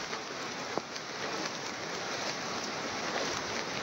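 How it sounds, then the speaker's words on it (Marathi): Heavy monsoon rain pouring down during flooding in Marathwada, a steady dense hiss of rainfall with a few sharper drops striking a surface close by. "अनेक भागांमध्ये मुसळधार पाऊस बरसतोय।"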